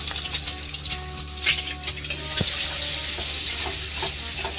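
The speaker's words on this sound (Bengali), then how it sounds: "কড়াইতে ডিমটা দিয়ে দিলাম" An egg dropped into a hot kadai of oil lands with a soft thud, then a loud, continuous sizzle of frying rises and holds, recorded at close range in a village kitchen.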